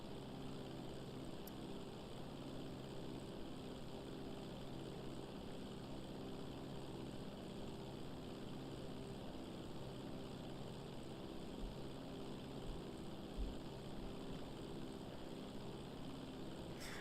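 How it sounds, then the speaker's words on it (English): A propeller plane flies in the video game GTA Online, its engine a steady, low, even drone that holds for the whole stretch at a fairly quiet level, with no voices. "I'll go and get the other plane right now."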